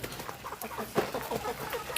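Home-farm chickens cluck in a low, busy chorus of short, overlapping calls, steady and fairly close, with no voices.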